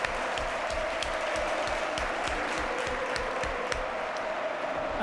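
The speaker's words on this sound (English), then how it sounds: "I'll clap it up for Cazorla as well." Steady applause fills the room throughout, a dense run of clapping at even loudness for a 40-year-old Real Oviedo veteran, Cazorla, subbed off during a La Liga match against FC Barcelona.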